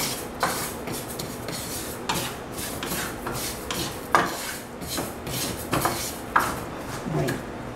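Sesame seeds dry-toast without oil in a pan over low heat for chicken mole, stirred with a spoon in repeated scraping, rustling strokes and sharp clinks against the metal, close and without talk.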